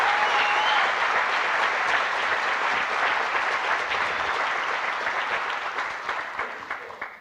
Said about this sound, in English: please join me in another big round of applause for our DC Youth Slam team and drummer Jolly D